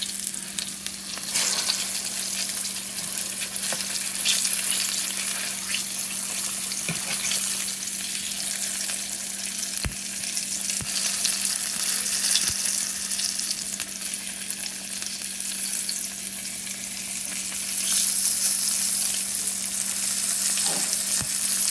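Pork chops browning in a frying pan for smothered pork chops with mushroom gravy, giving a steady, close sizzle and crackle that holds without break for the whole stretch, with a faint steady hum underneath and no talk.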